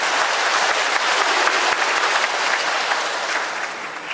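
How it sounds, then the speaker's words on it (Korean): Full, dense applause from a church congregation during a Trinity Sunday Mass homily, steady and loud throughout the short stretch with no talking over it. "그럴 때는 박수 나와야 됩니다."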